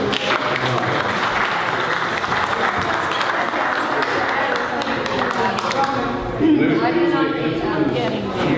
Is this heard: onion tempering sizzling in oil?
no